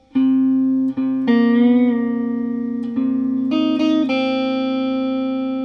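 Sustained guitar notes and chords ring out in a slow pattern, each struck and left to sustain, with a pitch bend near the end; no voices.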